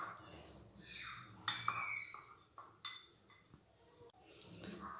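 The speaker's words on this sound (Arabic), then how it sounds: "هنا نخلط كاع داك السكر مع القرقاع هذاك، نخلطوه مليح" Sugar being stirred into nuts in a bowl: quiet, close clinks and scrapes of a utensil against the dish, arriving in short irregular bursts with soft pauses between them.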